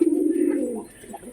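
Pigeons kept and fed for year-round egg laying give a soft, low cooing call that swells and then fades over about a second, close by and alone without talk.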